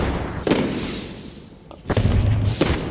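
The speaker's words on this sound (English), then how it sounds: "I'll put some fireworks down" Fireworks burst in the video game Phantasy Star Online, a few muffled booms and crackles over a steady noisy game background.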